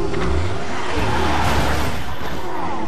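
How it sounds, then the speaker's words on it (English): A car engine straining and revving in the video game Resident Evil 6, a loud continuous motor roar with tire-like squeals that fills the whole stretch. "Get the car starting!"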